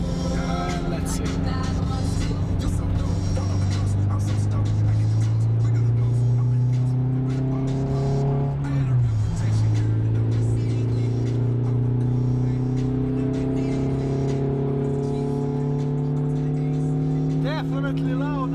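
A Renault Clio 172 RS fitted with an RS2 clone intake accelerates hard through the gears, its engine note climbing and dropping at a shift and then climbing again, loud and close from inside the car, with someone talking over it.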